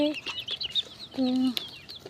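Month-old chickens, fifty-four of them, give a few clucks and high peeping calls at close range, with one longer drawn-out note in the middle.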